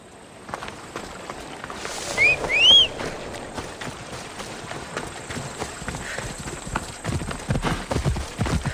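Horse hooves clip-clop steadily in the video game Assassin's Creed Odyssey, a continuous trotting beat that runs throughout, with a couple of brief whistle-like chirps near the start and no speech.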